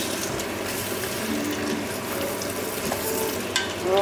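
Chili seeds fry and get stirred in a hot pan at home, a steady close sizzle with faint scraping and clicking of the utensil throughout, no voices.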